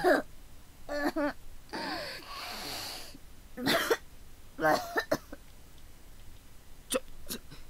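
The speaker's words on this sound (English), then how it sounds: "this just seemed to make her cough." A female character in the horror video game Corpse Party: Book of Shadows coughs wetly and productively in several harsh bursts, with spluttering gasps between them and a couple of short sharp coughs near the end.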